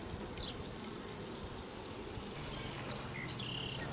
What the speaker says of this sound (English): Whoever says the bees won't swarm on a rainy day, I got one right here.